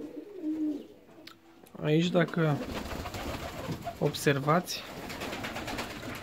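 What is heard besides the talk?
fancy pigeons cooing on a pigeon terrace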